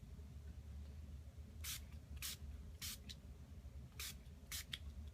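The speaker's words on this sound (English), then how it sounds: "just give it a spritz" A spray bottle spritzes a steampunk altered keepsake box several times, each a short sharp hiss, some in quick pairs, close but fairly quiet over a low background hum.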